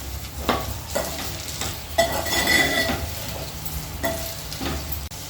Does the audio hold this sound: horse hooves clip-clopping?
no